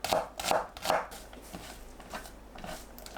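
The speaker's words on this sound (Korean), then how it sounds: "양파를 2cm 길이로 얇게 채 썰어주세요." A knife chops onion into thin strips about 2 cm long on a cutting board for Korean braised tofu, giving a few crisp, evenly spaced cuts up close. Quieter, lighter cuts follow.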